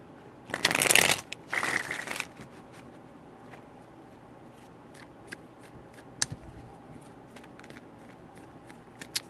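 Two quick bursts of tarot cards being riffle-shuffled up close, followed by quieter scattered taps and clicks of cards being handled.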